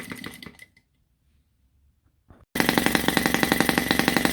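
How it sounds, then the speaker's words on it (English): An OKMO 1.6cc mini four-stroke gasoline engine fitted with a muffler runs briefly, goes quiet for about two seconds, then restarts into a loud, fast, steady, close-up putter that continues to the end. "So this is the sound with the muffler on top. Sounds more deep."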